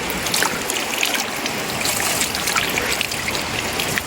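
Mountain spring water flowing along a hiking trail, a steady broadband rush and trickle that is loud and continuous throughout, without talk.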